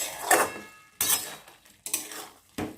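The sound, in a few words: stirring chicken in a pan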